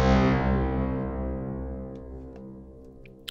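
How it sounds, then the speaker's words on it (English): A classic reverb response from the KHS Convolver plugin: a rich harmonic tone rings out and slowly decays into a long, smooth tail, ending with a faint click. "it's going to be more noticeable if I get something like this, just a more classic reverb response"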